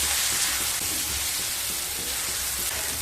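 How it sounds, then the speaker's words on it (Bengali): Ingredients for kolmi shak lightly fry in a pan with a continuous close sizzle and faint stirring scrapes, no voices. "সমস্ত উপকরণগুলো যখন হালকা ভাজা হয়ে যাবে"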